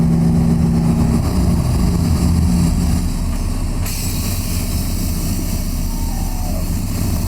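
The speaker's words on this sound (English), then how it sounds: "all I had to do is bump the throttle and it brought the lift axle up" A truck engine idling steadily with a throttle bump that raises the lift axle, a continuous loud low rumble running alone throughout, with a slight change in tone partway through.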